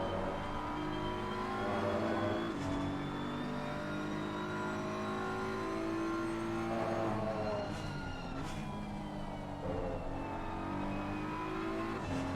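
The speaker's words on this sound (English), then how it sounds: "A couple cars exiting the pits in the background there." Several race cars in a sim racing game leave the pits during a four-hour endurance race at Laguna Seca, among them the number 23 Lamborghini, making a steady layered engine drone with revving passes over the background.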